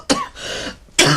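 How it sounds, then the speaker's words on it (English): A man coughs twice, sharp and close, with a short rasping breath between the coughs. "cough seems to be getting better"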